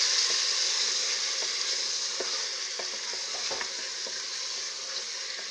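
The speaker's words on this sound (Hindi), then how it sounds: "अब इसकी अच्छे तरीके से हम भुनाई करेंगे।" Beef nahari masala fries in a pot with a constant soft sizzle, while a spoon scrapes and clicks now and then as it is stirred. No one speaks.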